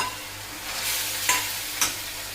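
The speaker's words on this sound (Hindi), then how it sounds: "जरा देर में इसको भून लेते हैं।" Tomatoes frying with turmeric and chili in a pan, a continuous soft sizzle broken by two sharp scraping strokes of a spoon stirring the mixture.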